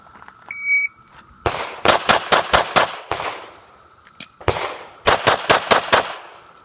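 Gunshots fired at a shooting match, rapid strings of sharp cracks in two bursts with a short pause between, loud and fairly close, with a faint electronic timer beep before the first string.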